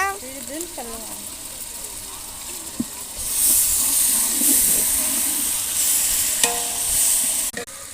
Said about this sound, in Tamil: இந்த கஸ்தூரி மேத்தி போடுறாங்க. நல்லா கலக்கிக்கிறாங்க.